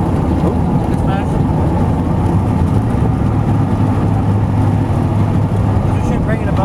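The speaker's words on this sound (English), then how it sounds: "It's starting to tick pretty bad now, listen." Jet boat motor running with a ticking fault, a loud, steady engine roar heard up close with a dense rumble, wind buffeting and brief voices underneath.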